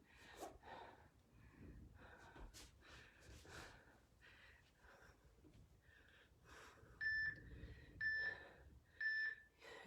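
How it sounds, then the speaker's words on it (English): Workout interval timer giving three short electronic beeps near the end during an abs session, preceded by soft breathing and light movement sounds. "I'm gonna turn off this really annoying timer."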